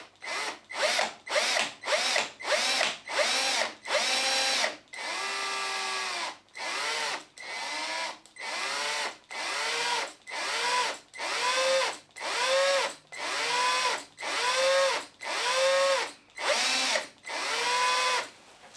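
A cordless drill fitted with a Trend Micro Grabit extractor works a tiny stripped screw in a key fob, firing in repeated short whirring bursts with rising and falling motor pitch, close and loud, stopping and starting throughout.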